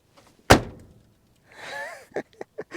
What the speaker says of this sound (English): closing the rear door inside the car, you can hear the boot clanging